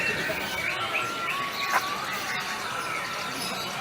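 White-rumped shama (murai batu) singing in a bird-song contest class: thin, bright whistled phrases rise over a dense, noisy wash of many other birds chattering, with a faint murmur of voices.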